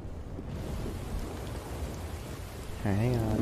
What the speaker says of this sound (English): We are in the eye of the storm.